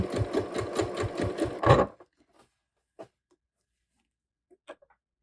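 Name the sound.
sewing machine back stitching and stitching ribbing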